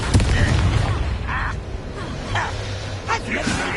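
A Confringo blasting spell in a video game goes off in booming bursts and crackling blasts, mixed with voices talking throughout.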